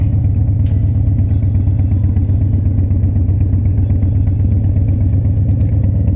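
A motorcycle rolling slowly during riding-skills practice, its engine a steady low throb with faint clatter, close and constant throughout, no voices.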